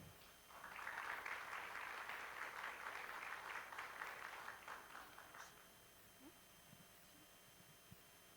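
Steady applause from a conference audience welcoming speakers onto the stage, a dense mid-range patter that swells quickly, holds for several seconds, then thins and fades out, leaving a quiet room with a few faint knocks.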